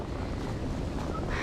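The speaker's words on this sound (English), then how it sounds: "It is so windy. I'm sure you can hear that" Strong wind during a polar vortex buffets the microphone beside a chicken coop in a dense, continuous rush and roar, with no voices heard.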